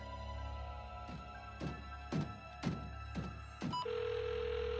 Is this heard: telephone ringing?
yes